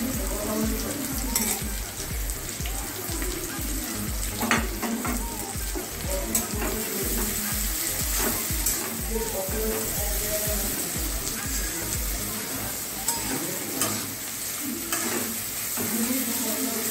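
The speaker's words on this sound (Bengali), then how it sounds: "ভালো করে ভেজে নেওয়া হবে পেঁয়াজটাকে।" Onions fry in a pan at home with a steady, dense sizzle, stirred in repeated scraping strokes, close and continuous, with brief speech over it.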